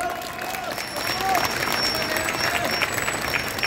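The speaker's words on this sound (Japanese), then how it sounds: "今皆様の拍手をいただき" A crowd gathered outside Kamata Station's west exit in Tokyo applauds at an outdoor political rally for an Ota ward mayoral candidate: dense, steady clapping that holds evenly throughout, with faint voices mixed in.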